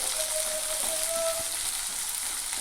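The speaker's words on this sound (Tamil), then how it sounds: "சேர்த்துட்டு ஒரு 2லேருந்து 3 நிமிஷம் நல்லா எண்ணெயில் வதக்கிக்கலாங்க" Chopped onion sautéing in oil for pumpkin poriyal, with a steady, even sizzle and faint hiss heard close up, and no talking.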